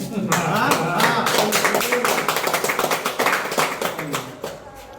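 A crowd at a human rights association meeting in Jhajha, Bihar claps vigorously and continuously, a steady rattle of hands with voices mixed in underneath, fading slightly toward the end.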